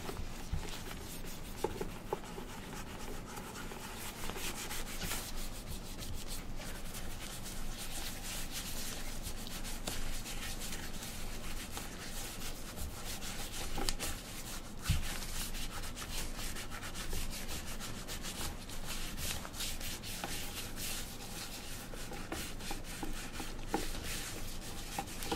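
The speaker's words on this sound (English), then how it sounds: "you put more of that wax polish there in the cream, which we're using from Magnanni, neutral in color, on the body of the shoe" Neutral Magnanni wax polish cream is rubbed by hand onto the body of a leather shoe, a close, continuous dry scrubbing and brushing texture captured intimately, steady throughout with no voices.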